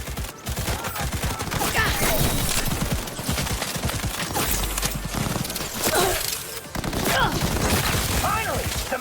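Autonomous gunfire rattles in Cyberpunk 2077, a dense, loud, nearly continuous volley of rapid shots layered over busy game sounds, with a brief dip midway before the barrage resumes.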